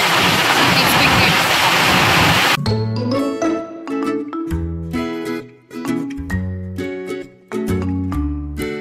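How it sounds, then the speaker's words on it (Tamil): Heavy rain hisses loudly and steadily for the first couple of seconds, then stops abruptly as music takes over. "பயங்கரமான மழை"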